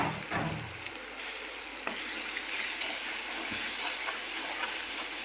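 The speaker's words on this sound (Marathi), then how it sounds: "चांगला मसाला भाजायचा बरं का." Masala spices roast in a pan with turmeric, red and black masala and salt, making a soft continuous sizzle and hiss with a few stirring scrapes and ticks. No voices are present.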